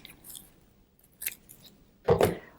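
Scissors snip through fabric and gauze for a junk journal topper, a few quiet cuts followed by one louder, sharper crunching snip near the end.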